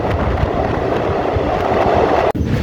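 A train travelling through the snowy Kashmir mountains rumbles loud and steady, with continuous wheel and carriage noise, a brief sharp dropout near the end, and no talking.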